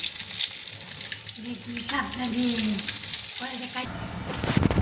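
A chicken leg frying in oil makes a continuous, close sizzle, while a voice briefly talks underneath and a louder spatter rises near the end.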